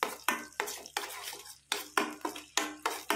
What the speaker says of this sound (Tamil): சிம்மிலே வச்சு நல்லா கிளறி விட்டுக்கோங்க